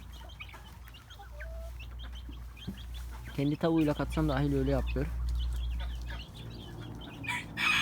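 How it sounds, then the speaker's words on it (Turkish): Bantam rooster and hens clucking inside a backyard coop, with short bird calls scattered throughout and a louder burst of crowing-like calls in the middle, heard beneath someone talking nearby over a low steady hum. "Bu da bizim yedek zibrit horoz."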